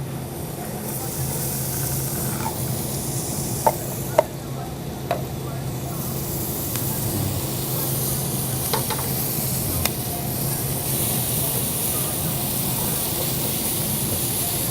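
Granny Smith apple slices and thin-sliced onion sizzle steadily in melted butter in a pan, a continuous close frying hiss with occasional sharp pops and clicks throughout.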